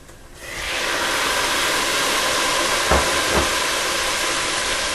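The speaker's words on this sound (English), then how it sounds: "We want to go ahead and add the tomatoes." Tomatoes dropped into a pan of browned meat and onions for a Somali spaghetti sauce with vegetables erupt into a loud, steady sizzle that holds evenly, with a couple of faint clunks partway through.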